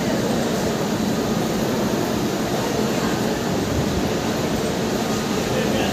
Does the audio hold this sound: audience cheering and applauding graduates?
no